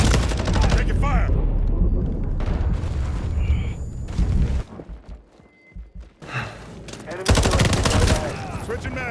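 Bursts of rapid automatic gunfire with booms fill a Modern Warfare multiplayer match, loud and close, pausing briefly midway before firing resumes, with faint voice callouts under the shots.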